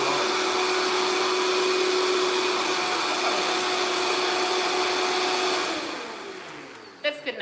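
A Vitamix blender runs at high speed in a home kitchen with a steady loud whine, then winds down and stops near the end, followed by a few clunks.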